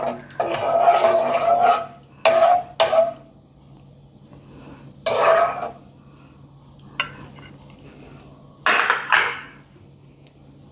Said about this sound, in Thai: คนให้เข้ากันนะคะ คนให้เข้ากัน ให้เดือด